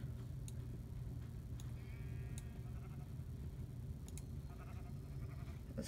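Sheep bleating in the Minecraft video game, a short bleat rising briefly over a steady, dense background wash.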